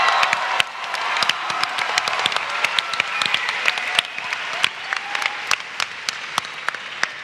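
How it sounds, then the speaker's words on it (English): An arena audience applauds for taiko drummers at a youth day workshop, a dense, sustained wash of clapping with sharp individual claps standing out, close and loud, fading slightly toward the end. "let's give a big round of applause for Crespi's taiko drummers who will be performing for us later"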